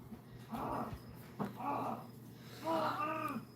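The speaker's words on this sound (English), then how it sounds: "Now he's out there howling." A dog howls outdoors on a full-moon night: three drawn-out, wavering howls rise and fade with short gaps between them, heard at a moderate distance against a quiet background.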